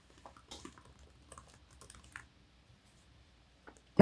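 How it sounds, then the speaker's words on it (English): Light, scattered keystrokes tap on a computer keyboard in a quiet room for a couple of seconds, followed by a pause and a sudden louder sound at the very end. "I'll type it again."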